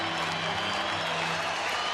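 A baseball stadium crowd of about thirty thousand at a Texas Rangers home game against Pittsburgh cheers in a steady, dense roar of applause and voices, with a commentator talking over it.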